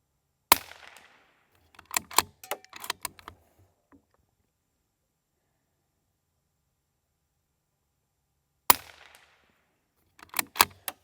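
Sharp, crisp shots from a Bergara B-14 .22LR match rifle ring out at a range, a single report followed by a quick string of four or five, then a long silence before another shot and a final cluster, each with a short ringing tail.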